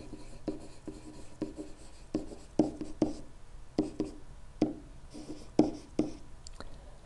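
Angle measurements being written on a board: a quiet series of about a dozen short, regular scratching strokes, each a distinct tap-and-scrape, close by with no talking.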